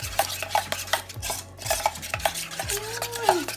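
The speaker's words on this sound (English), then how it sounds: "I'm going to mix that together." A spoon stirs jerk chicken seasoning together in a bowl, giving close scraping and clinking strokes in an uneven rhythm.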